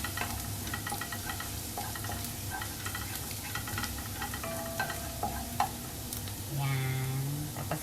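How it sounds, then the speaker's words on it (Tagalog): Chopped garlic sizzles in a hot pan as the base for a miswa soup with sardines and patola, a steady close frying hiss with occasional clinks and stirring scrapes throughout. "Lalagay na po natin yung ating bawang."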